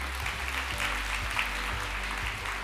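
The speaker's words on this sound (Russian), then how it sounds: "ваши аплодисменты" Audience applause for a singer at the ceremonial opening of the All-Russian student graduation event, a dense, steady wash of clapping from a large crowd with a low musical drone underneath.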